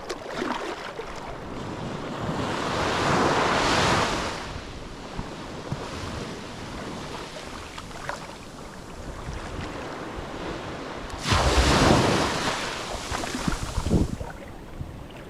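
Ocean waves roll onto a Pacific island beach at Hiva Oa, with two big surges breaking close by between quieter wash and gusts of wind on the microphone.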